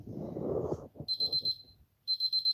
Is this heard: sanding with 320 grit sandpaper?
no